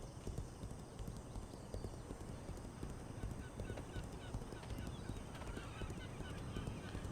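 Horse hooves clip-clop steadily and close in the online role-playing game Legends of Aria, a brisk, continuous stream of hoof strikes with no talking.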